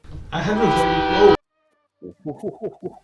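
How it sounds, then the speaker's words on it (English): A train passing near an apartment office sounds a loud, sustained, horn-like tone for about a second through a desk microphone before it cuts off abruptly, followed after a pause by a person speaking briefly. "That was the train going right through my apartment"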